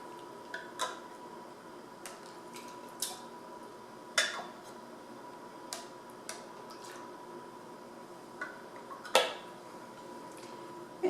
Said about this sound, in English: Now we're ready to put on our lids.